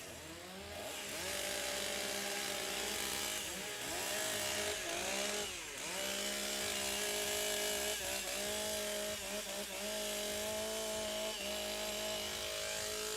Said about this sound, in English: Warm up the saws.